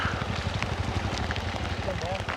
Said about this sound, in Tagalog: Yun ang ulan!